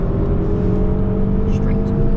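A car engine on the Nürburgring roars steadily up close from on board, a loud sustained drone with layered harmonic tones and no pause.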